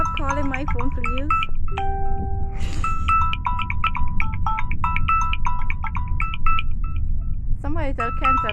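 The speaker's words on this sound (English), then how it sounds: "People stop calling my phone, please." A phone rings with incoming calls, sounding steady repeating electronic ringtone tones and beeps across the whole stretch over a constant noisy background during a live stream.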